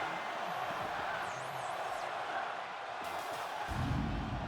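A wrestling video game crowd roars and cheers continuously in an arena, a dense steady wash of noise with a whistle-like sweep and a heavier thump near the end.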